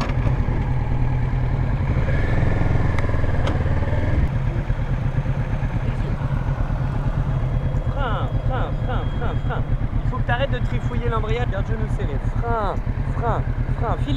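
A motorcycle rides a slalom exercise on a training course with light throttle, a steady engine drone under an instructor talking over a radio, with some higher tones from other bikes.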